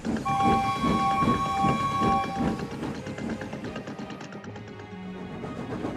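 A steam engine chuffs in a steady rhythm with a whistle-like tone over background music, the puffing easing off toward the end.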